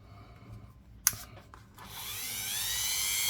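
A Dremel rotary tool spins up against a British one-penny coin after a sharp tap and a few soft handling noises, its high whine rising and then holding steady close by.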